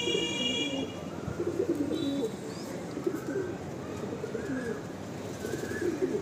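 Pigeons in a loft coo softly and repeatedly at close range over steady background noise, with a few faint chirps mixed in.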